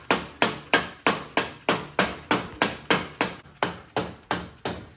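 A hammer lightly taps parts on a rotary RX-7 13B engine back from the machine shop: about a dozen crisp, evenly spaced metallic knocks, close and alone.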